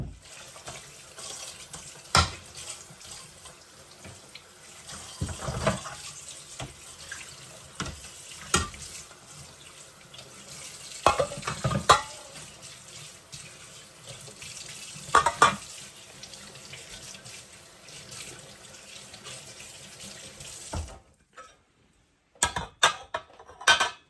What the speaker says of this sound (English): Let's rinse them and put them back in.